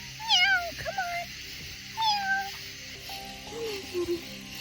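Several short, high meows from a cat at a horse shelter, close by, with brief pauses between them and a soft voice murmuring underneath.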